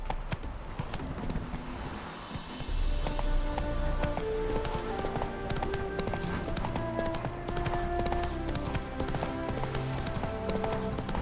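A horse gallops in The Witcher 3, its hooves beating a fast, steady clip-clop rhythm close by, layered over soft in-game music.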